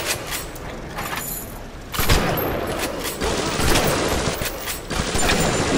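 A shotgun fires in the BioShock video game, with a heavy blast near the two-second mark followed by several more loud shots over constant noisy combat ambience.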